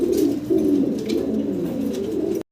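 Pigeons coo steadily at a pigeon farm, a dense overlapping chorus of low, throaty calls close by that continues without pause until it cuts off.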